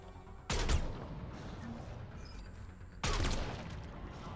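Two heavy sniper rifle shots fired in Mass Effect 3, each a sharp loud crack followed by a long booming echo tail, spaced a few seconds apart over faint background ambience.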